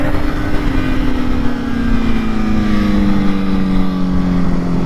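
A BMW Motorrad sport motorcycle runs at speed on the COTA racing circuit in a steady loud engine drone whose pitch slides slowly downward throughout, with constant wind rush and no talk.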